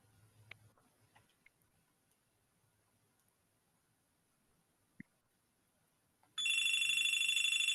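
Quiet room with faint clicks and a soft thump, then an electronic phone ringtone bursts in loud and sustained near the end, signaling an incoming call.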